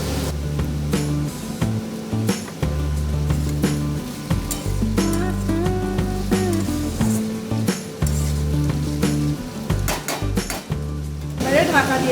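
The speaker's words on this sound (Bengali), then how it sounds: "এবার আমি এর ওপরে একটু কাঁচা তেল ছড়িয়ে দেবো" Radish chechki with dal bori sizzles in a hot pan as raw oil is drizzled over it, a steady crackling hiss with occasional utensil clinks, while a voice talks throughout.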